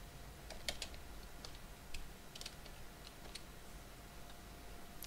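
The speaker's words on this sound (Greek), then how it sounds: "Πληκτρολογούμε στο Google το όνομα του προγράμματος" Scattered, faint clicks of keys being pressed on a computer keyboard while a search term is typed, irregular taps and short bursts over a low steady background hum, with no talk.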